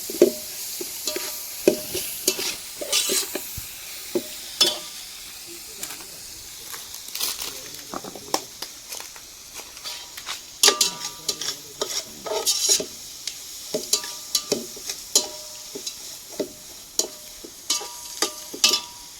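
Mutton curry sizzles and fries in a pan just after tomato goes in, with close, repeated scraping stir strokes in an uneven rhythm over the frying, and a voice speaks briefly.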